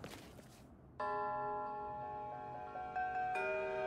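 Bell tower in The Unfinished Swan video game rings with a bright, sustained chime that starts abruptly and then swells again as a second strike layers in, clear and alone against quiet.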